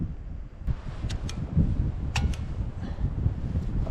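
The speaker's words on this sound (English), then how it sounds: "See how it lights up and then it dies? Yeah. How old is this thing? No, it's fine. It's just the wind." Wind buffets a microphone outdoors in freezing winter while a camping stove is being lit, a loud continuous rumble with a few sharp clicks and ticks breaking through.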